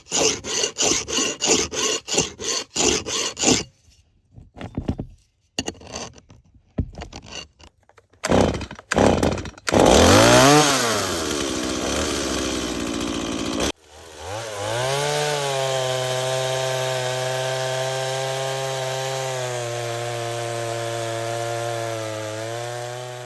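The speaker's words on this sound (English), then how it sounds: "I'm just gonna cut it and make a bench" A chainsaw starts with several sputtering pulls, then revs loudly and runs in a long, steady roar as it cuts through a tree stump in woodland, pitch dipping under load.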